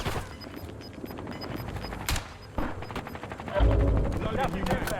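Kilo 141 assault rifle fire in Call of Duty Warzone: sharp bursts and single shots crackle, mostly at mid distance, with a heavier close burst near the end. Faint game sounds sit underneath.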